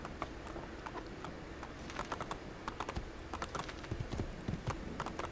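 Hooves of a black horse clatter rhythmically in the video game Assassin's Creed 2, a brisk run of sharp clip-clop beats that grows denser and more pronounced, heard up close over a low background bed.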